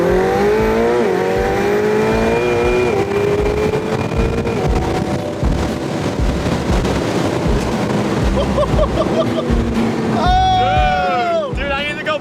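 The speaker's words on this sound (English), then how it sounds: "the turbos kick in at a lower RPM" A turbocharged McLaren 720S sports car accelerates hard, with a loud engine note sweeping upward through rising gears and a roaring rush of wind, while people in the cabin talk and exclaim over it.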